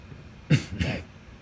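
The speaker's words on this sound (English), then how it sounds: "Pardon my little cough" Two quick coughs in a row, close and fairly loud, then quiet.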